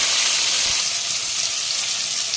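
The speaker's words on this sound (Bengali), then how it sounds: "হলুদ দিলাম, এটাকে একটু ডিপ ফ্রাই করে নেব।" Drumstick (moringa) vegetable pieces deep frying in oil with turmeric, giving a steady, close, unbroken sizzle with no talk.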